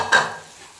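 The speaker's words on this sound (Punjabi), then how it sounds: "ਹੁਣ ਇਹਦੇ ਵਿੱਚ ਅਸੀਂ ਕੱਟੀ ਹੋਈ ਲੋਕੀ ਤੇ ਕਾਲੇ ਛੋਲੇ ਜਿਹੜੇ ਭੁੱਜੇ ਹੋਏ ਸੀ ਉਹ ਪਾ ਦੇਣੇ ਆ" Chopped bottle gourd and roasted black chickpeas drop into a pan of masala cooked down in oil, giving a brief near sizzle and stir at the start that fades quickly.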